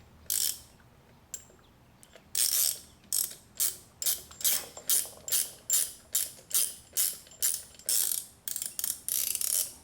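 A ratchet is cranked to compress a rear shock bushing on a Corvette C4. It gives a close run of sharp, evenly spaced clicking strokes that pick up a steady rhythm after a few slower first pulls.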